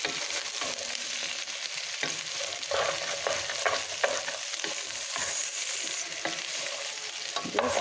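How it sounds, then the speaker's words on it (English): Sliced potatoes and okra fry in a pan with a constant close sizzle, broken by the scrape and clatter of a spatula stirring the vegetables. "So here we give a nice stir to it."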